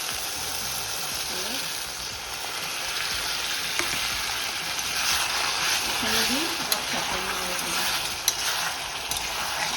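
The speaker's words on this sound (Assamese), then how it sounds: "এইখিনি ভাজি দিম আৰু অকণমান পানী দিম" Steady, loud sizzling of fish in cornflour batter frying in hot oil fills the clip, with faint voices murmuring in the background.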